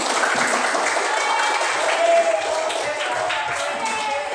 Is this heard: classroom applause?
yes